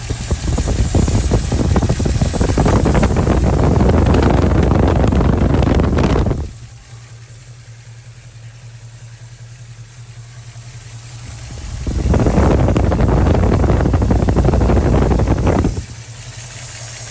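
A car engine idles with the hood open, producing a loud, close rumble that swells in two long stretches and settles back to a quieter, steady hum between them.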